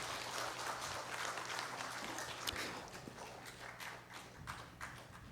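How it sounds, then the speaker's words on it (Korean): A congregation claps during a Sunday service at a Korean Presbyterian church as nursery and kindergarten children receive completion certificates: dense, quiet, sustained applause with scattered sharper claps, heard from a distance. "여러분 박수 쳐주시기 바랍니다"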